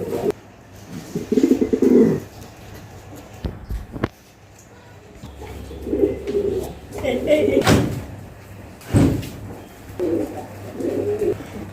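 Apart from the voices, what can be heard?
pigeons cooing in a pigeon farm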